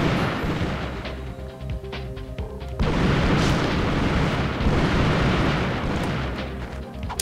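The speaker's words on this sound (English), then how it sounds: "There, my bombs took out the bomb machine." Bomb glove explosions in Ratchet & Clank, a Qwark's base level: dense, loud booms and rumbling blasts layered over constant game noise, growing heavier partway through.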